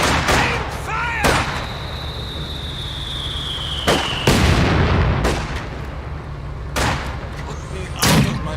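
Video game battle with repeated gunshots and bursts of fire cracking out at irregular intervals, some sharp and near, over a continuous rumbling backdrop and a sustained whistling tone, with shouted voices mixed in.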